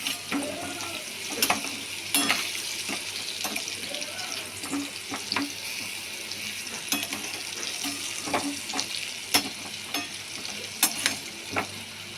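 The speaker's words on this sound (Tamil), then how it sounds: "இப்படி வதங்குது பாருங்கள்" Gooseberry pickle ingredients frying in a pan over low heat, a steady sizzle broken by frequent sharp scrapes and taps of stirring, close and moderately loud.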